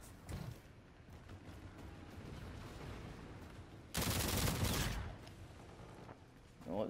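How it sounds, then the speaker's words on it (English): A burst of gunfire from an EBR-800 in an Infinite Warfare team deathmatch, a loud dense volley of rapid shots lasting about a second, with quieter game noise before and after. "they're shooting down my shit"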